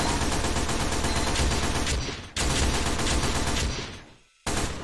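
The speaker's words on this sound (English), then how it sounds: "So I really like the shotgun secondary." Shotgun secondary weapon in the video game Gunsun Zeros fires in rapid sustained bursts, loud dense blasts that cut off briefly twice before resuming, with no speech.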